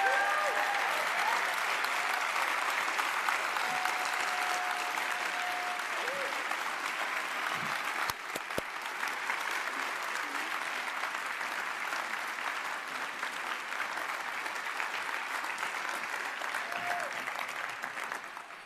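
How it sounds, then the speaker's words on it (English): Sustained audience applause filling a closing congress plenary hall, a long even roar of clapping from a large crowd, loud and continuous before tapering at the end. "Please give them a big applause again"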